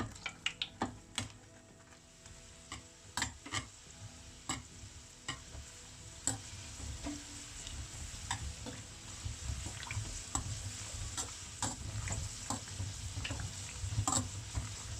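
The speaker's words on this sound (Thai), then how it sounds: "ในการทอดก็จะใช้ทัพพีหรือว่าใช้ตะแกรงนะคะ ช่วยๆกดๆเพื่อที่จะให้ ขนมของเรา ดูดน้ำมันทอดได้ทั่วถึงค่ะ" Sesame balls deep-frying in hot oil while a ladle presses them down, giving a steady bubbling sizzle broken by frequent sharp taps and clinks of the utensil against the pan.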